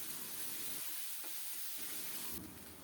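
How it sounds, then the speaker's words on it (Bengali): Ground onion and garlic paste fries in a pan for a pabda fish dopiaza, giving a steady, faint hiss and sizzle throughout, with no talking. "এখন বেটে রাখা পেঁয়াজ রসুন দিয়ে দিলাম। ভালোভাবে নেড়ে চেড়ে একটু কষিয়ে নেব"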